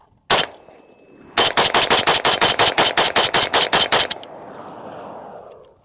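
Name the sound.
rifle firing several rounds without a suppressor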